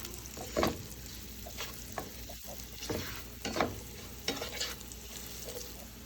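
Chili crisp is being stirred into spaghetti sauce frying in a pan: a soft, continuous sizzle broken by several scraping strokes of a spoon against the pan.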